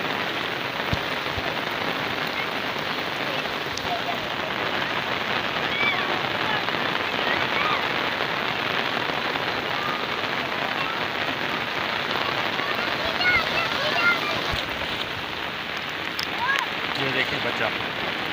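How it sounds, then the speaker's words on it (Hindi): Steady heavy rain pouring on surfaces as children bathe in it, a dense continuous hiss throughout with faint voices and occasional louder splashes. "बारिश में नहा रहे हो?"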